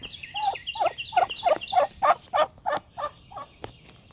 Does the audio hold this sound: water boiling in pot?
no